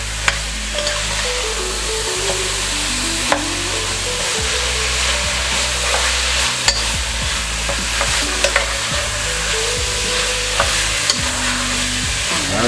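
Ground beef browns in a pan for Hamburger Helper chili cheese macaroni, a loud, steady close sizzle with a low hum underneath and occasional spatter ticks; no talking.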